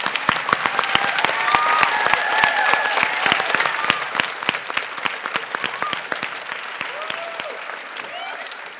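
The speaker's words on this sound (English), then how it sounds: "Would you please give yourselves a round of applause, and they're going to clap for you too." Sustained applause from an audience at an elementary honors chorus concert, dense rapid clapping across the whole stretch with a few faint crowd voices mixed in.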